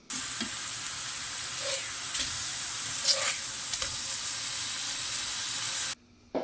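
Burger patties sizzle loudly and steadily in a hot pan, being prepared for a Big Mac pizza, with occasional scraping stirs before the sound cuts off near the end.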